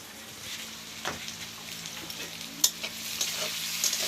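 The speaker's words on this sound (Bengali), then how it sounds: "পেঁয়াজটা এখন ভাজা হচ্ছে।" Sliced onions fry for chicken biryani in a home kitchen, a steady close-up sizzle with occasional stirring scrapes and light taps on the pan, and no voices.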